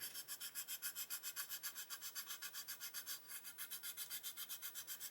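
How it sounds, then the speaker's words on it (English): Sanding down a lump on a hobby scale model aircraft: quick, even back-and-forth strokes of abrasive in a steady rhythm, faint and close. "just going to sand that out there where that lump is"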